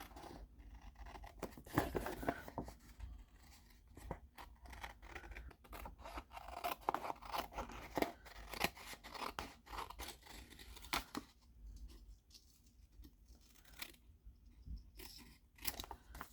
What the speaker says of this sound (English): grab my snips, and trim it off